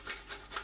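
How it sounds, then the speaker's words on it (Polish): Garlic rubbed against a kitchen grater, three soft rasping strokes in quick even rhythm, close and faint. "I czosnek również ścieram na tarczce"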